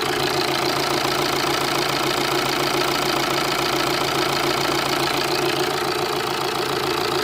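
A loud, continuous Vauxhall Zafira C 2.0 CDTI diesel engine, in limp mode with a fault, idles steadily with a rough, rattling knock throughout, close up and unbroken, with no voices.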